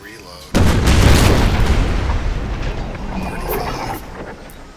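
Artillery fire in the strategy game Empire: Total War booms out as one loud, sudden blast followed by a long rumbling roll that slowly fades, close and dominant.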